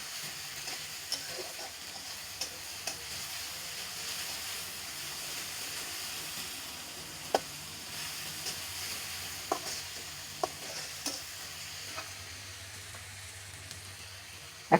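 A ground ginger, garlic and cumin paste fries in a pan for a village-style vegetarian curry, giving a quiet continuous sizzle with periodic spoon scrapes and taps every second or so, over a faint low hum; no speech.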